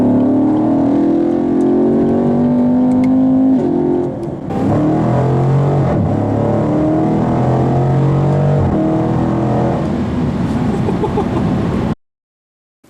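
A 2016 Chevrolet Camaro SS and a 2016 Dodge Challenger Scat Pack at wide open throttle on stock exhaust: loud V8 roars climbing through the gears, each pull rising then dropping at shifts, steady and close until an abrupt cut near the end.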